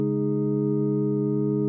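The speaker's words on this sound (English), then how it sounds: "Now we have some chords that are going to sound like this." A synth chord of stacked fifths built in FL Studio, a single smooth sustained tone held evenly at moderate level with no other sounds.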